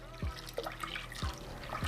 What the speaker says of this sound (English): So 1 cup of water in.